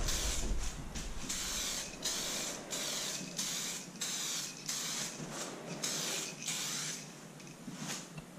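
Spray gun applying clear coat to composite Z06-style lower vent ducts for a C7 Corvette Stingray, a steady hiss broken into repeated short bursts as passes go back and forth, close by with no talking.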